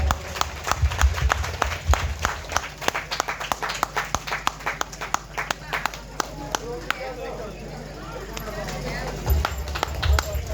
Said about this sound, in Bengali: একটু হাততালি চাইবো সবার কাছ থেকে